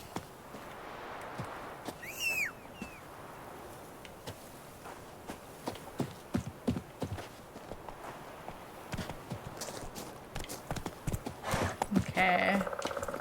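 A horse gallops in The Witcher 3, with steady clip-clop hoofbeats pounding in a fast rhythm throughout, a brief whinny-like call early on, and someone talking over the hooves.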